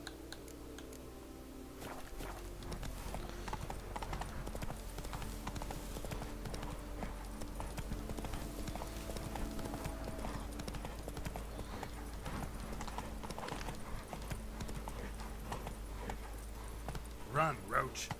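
A horse galloping in the video game The Witcher 3, rapid rhythmic hoofbeats running steadily under game music and ambience for most of the stretch, with a person speaking over it.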